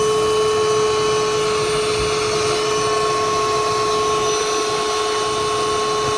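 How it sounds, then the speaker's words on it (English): A wet vacuum sucking combustion residue out of the condensate trap of a Burnham Alpine boiler, a loud, steady motor whine with a constant airy roar held close throughout. "kick it on and watch it suck out all the products of combustion"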